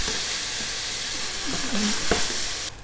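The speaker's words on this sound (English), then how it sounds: "Here we go for crispy bacon, not too much oil because that's going to produce some." Bacon lardons sizzle and crackle in a little olive oil in a pan, a steady close frying hiss with a few light stirring scrapes near the end.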